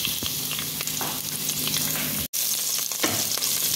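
Garlic frying in a little oil, a close, continuous sizzle with crackles and light stirring, briefly cut by a split-second gap of silence before carrying on.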